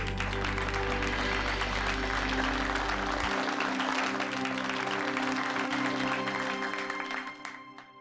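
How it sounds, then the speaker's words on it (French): Audience applause for performers on a TV show stage, a dense continuous roar of clapping throughout, with a low music hum underneath that drops out partway before the clapping fades at the end. "Applaudissez-les!"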